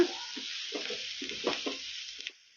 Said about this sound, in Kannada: ಮೆಣಸಿನ್ಕಾಯಿನ ಸಣ್ಣದಾಗಿ ಕಟ್ ಮಾಡಿ ಇಟ್ಕೊಂಡಿದ್ದೆ ಈಗ ಇದನ್ನು ಹಾಕೋಣ ಈ ಥರ ಕಲಿಸ್ಕೊಂತಾನೆ ಫ್ರೈ ಮಾಡ್ಕೊಂಬಿಡೋಣ